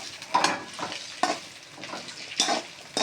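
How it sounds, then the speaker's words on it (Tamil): Okra frying in hot oil with a steady close sizzle, broken by three louder bursts as the pan is stirred. "வெண்டைக்காவை போட்டுக்கலாம். ஃப்ரை பண்ணிக்கலாம் எண்ணெயில்."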